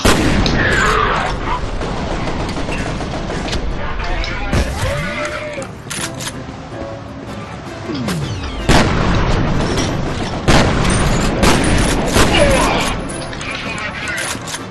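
Gunfire and explosions fill the first-person shooter F.E.A.R., with repeated loud, sharp shots and heavy booms arriving in irregular clusters, some followed by falling whistling tones. A voice is heard under the dense firing.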